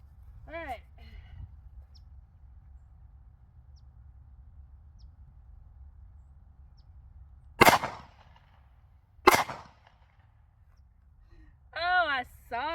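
Two sharp pistol shots from a Glock crack several seconds apart at moderate distance, with a quiet outdoor background and brief bits of speech at the start and end.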